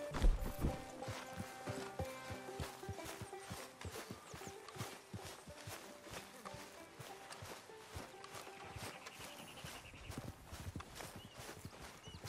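Horse hooves clip-clopping in the video game Red Dead Redemption 2, a steady walking rhythm of close, crisp hoof strikes running throughout, with no talk over it.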